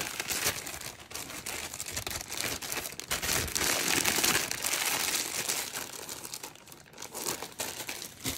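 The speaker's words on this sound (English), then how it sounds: "store this for later in your airtight" Crinkling of a plastic airtight bag as trimmed chip brush bristles are packed away, a steady close rustle with dense crackling throughout, no talking.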